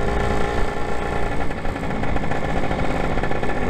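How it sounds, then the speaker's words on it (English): A Lambretta scooter's small two-stroke engine revs steadily and loudly up close as it pulls away, a continuous buzzing drone with slight rises in pitch and no talk. "just listen to the engine"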